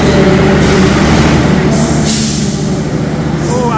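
An Argo Merbabu passenger train, hauled by a locomotive, rushes past close by on its morning run from Semarang toward Gambir, a loud continuous roar of wheels and carriages with a brief squeal near the end.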